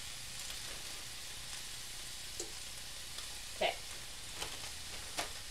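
Carrots cook quietly in a pan with a soft, steady sizzle, broken by a few faint clinks and pops, and one brief spoken word.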